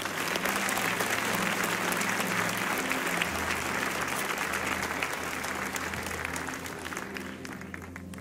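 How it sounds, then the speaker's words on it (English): A church congregation gives a sustained round of hand clapping, a dense, steady patter of many hands that fades slightly toward the end, with no speech over it. "Come on, give God a good hand clap offering."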